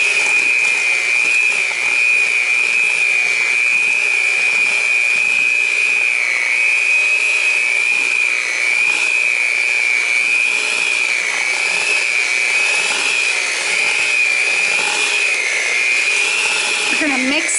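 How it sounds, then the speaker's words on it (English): Electric hand mixer beating chocolate cake ingredients, a steady high motor whine held continuously at close range with slight pitch wobble, loud and unbroken throughout. "I've got my handy dandy hand mixer here"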